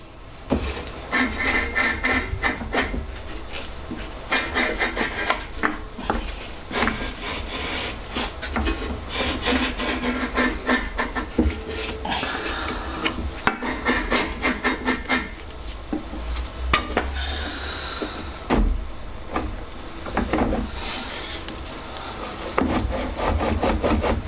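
Work on a McCulloch M7053D petrol lawnmower to remove its drive belt gives repeated rubbing, scraping and clattering of parts, close and irregular, with short knocks and no talking.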